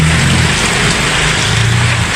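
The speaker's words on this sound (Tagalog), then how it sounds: "Ang lakas ng ulan tsaka hangin" Heavy rain and strong wind roar in a loud, dense, unbroken wash of noise that fills the whole short stretch, close and steady with no breaks.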